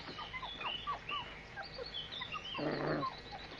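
A dog whimpers in short, rising whines repeated several times, with a louder, buzzy burst of sound near the end over steady background noise.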